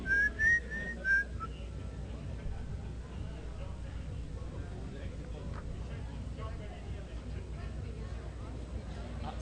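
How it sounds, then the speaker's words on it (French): People whistling at a gala, a few short shrill whistles at the start over a steady murmur of crowd noise that continues throughout. "Alors, c'est le moment de siffler."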